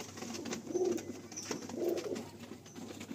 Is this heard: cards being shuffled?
no